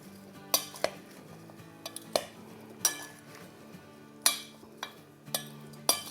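A spoon stirs a spiced vegetable pickle mix of lemon, salt and chili in a metal pot, giving sharp clinks and scrapes at an uneven rhythm, close and fairly loud, with no talk.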